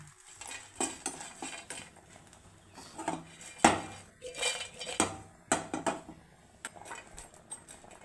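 A metal spoon scrapes and clatters against a pan as dried anchovies are dry-roasted and stirred, irregular close clinks and scrapes with short quiet gaps.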